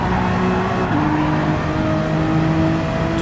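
Race cars in Gran Turismo 7, including a Honda, drone and rev steadily and loudly, their engine tones shifting slightly as they jostle for position.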